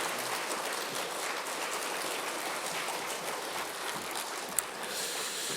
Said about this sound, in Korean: 우리 이면필 선교사님 오실 때 큰 박수로 환영드립니다